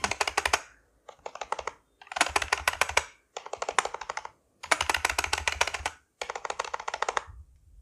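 Keys on an Amkette EvoFox FireBlade membrane keyboard, some lubed and some unlubed, are tapped in six short bursts of rapid keystrokes separated by brief pauses, close and crisp with no voices.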